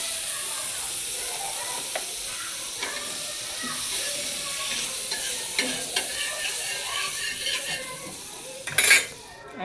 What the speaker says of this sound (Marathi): आणि हा पराठा आपल्याला त्यावरती चांगला भाजून घ्यायचा आहे। दोन्ही साईडने चांगला खरपूस भाजून घ्यायचा आहे।